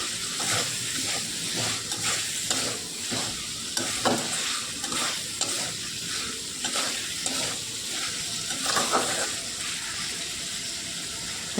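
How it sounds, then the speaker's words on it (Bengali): Potatoes stir-fried in a pan of spice masala for a vegetarian muri ghonto, with a continuous sizzle and repeated scraping, stirring strokes at an uneven rhythm, close and moderately quiet. "তো আমি এবার এই মশলার মধ্যে আলুগুলো দিয়ে দিচ্ছি"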